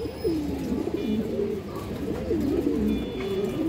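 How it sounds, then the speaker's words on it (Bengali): A pigeon at a breeding farm coos repeatedly in low, rolling warbles, close and clear, with the calls running back to back over faint background noise. "অনেক সুন্দর একটা কবুতর"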